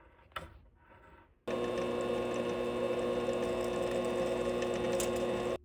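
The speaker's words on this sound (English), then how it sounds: "Let's tap a 5/16 thread on it." A 5/16 thread being tapped into a small lathe-made oil fill part for a homemade gas engine: a sudden steady, loud mechanical whir starts after a quiet moment and runs evenly to the end.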